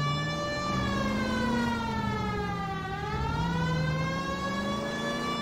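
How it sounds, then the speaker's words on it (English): A police car siren in the video game L.A. Noire wails, rising and falling in long, smooth sweeps, loud and steady throughout with no voices. "All those police cars that we keep passing."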